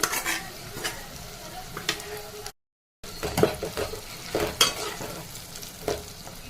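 Bitter gourd pieces stirred in a hot frying pan, a steady sizzle broken by repeated scraping stirs and light pan clatter, with a brief silent gap midway.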